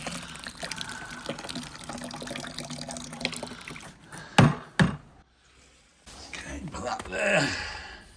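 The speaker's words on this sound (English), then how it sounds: "So let's wash it off again." Water splashes and trickles over sandstone as it is rinsed, running in uneven gushes with a couple of sharp knocks and a brief near-silence before the flow resumes.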